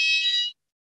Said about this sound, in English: There's normally a fire alarm at this time